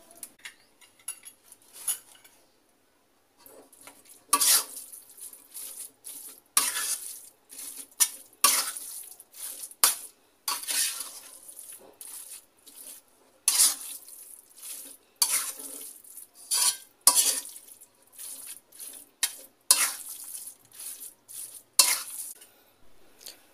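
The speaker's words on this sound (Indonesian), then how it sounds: "Campurkan daun bawang dan kemangi yang sudah dipotong-potong dan dibulak-balik biar matang merata." Chopped spring onion and basil are tossed and stirred in a pan for Sundanese grilled tofu pepes, giving a run of close scraping, rustling strokes with a faint sizzle and no talking.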